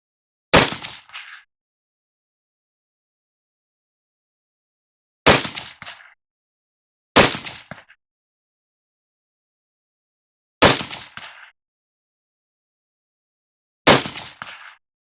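Five sharp, loud rifle shots from an AR with a Bear Creek Arsenal upper, firing 75-grain Sierra black-tip ammunition, each with a short echoing tail, irregularly spaced with silence between them.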